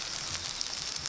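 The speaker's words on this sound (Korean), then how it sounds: "빗소리를 닮은 지글지글 부침개의 연주 소리에 군침이 꼴깍 넘어갑니다." Korean buchimgae pancake with shredded squash and chives frying in a pan at a family home in Jinan, giving a steady close sizzle with faint crackles throughout, no voices.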